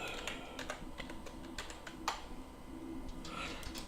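Rapid, uneven clicking of computer keyboard keys as someone types a location into a search filter while using the baseball management game OOTP 24, the taps close and fairly steady throughout with a soft background hiss.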